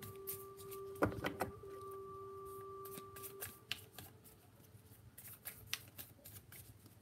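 Tarot cards shuffled during a reading, with a sharp riffle burst near the start followed by softer, scattered flicks and taps of the deck, quiet and close.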